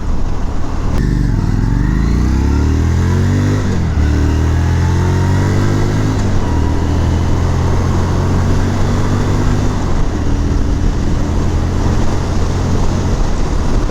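A 2018 Harley-Davidson Street 500 accelerates hard through its gears, loud and close, the engine note climbing in repeated sweeps with brief dips at each shift before settling into a sustained high-speed drone under heavy wind rush.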